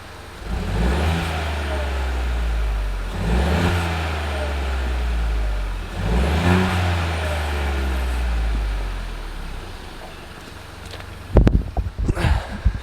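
A Ford Fiesta Zetec S Black Edition fitted with a Cobra exhaust is revved outdoors, with three loud rising-and-falling revs over a steady idle, then sharp clunks and knocks near the end.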